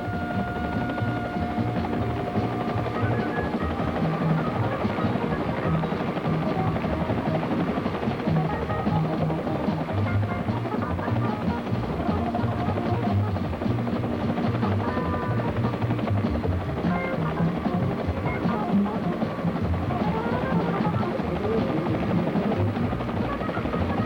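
An AH-1G Cobra gunship helicopter in flight, its engine and rotor making a steady, loud, continuous drone with a low thrumming beat that stays level throughout, with no voices.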